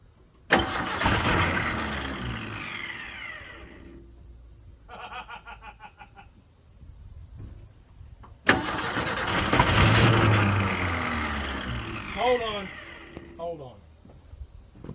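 A 1976 Ford Power House tractor engine cranks and sputters as it tries to start, loud and close, in two long bursts with a pause between, while people talk nearby.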